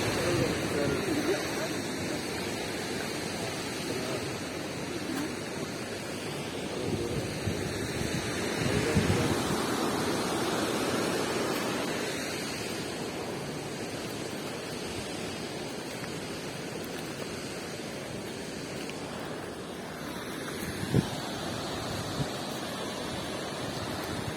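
Steady broadband rushing water roars throughout from nearby Tortum Waterfall, with indistinct voices murmuring faintly beneath it.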